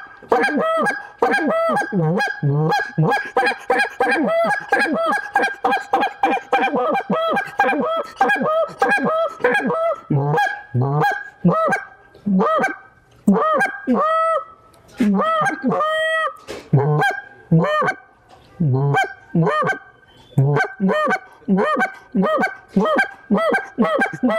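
A Lynch Mob goose call is blown in quick honking bursts, its smooth, hollow-toned clucks and double honks coming loud and close in a steady run with short pauses.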